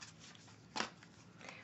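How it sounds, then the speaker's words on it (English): An oracle card deck is shuffled by hand with a soft riffle of cards, one brief burst and a fainter flutter after it, close and quiet with no talk. "As I shuffle the deck"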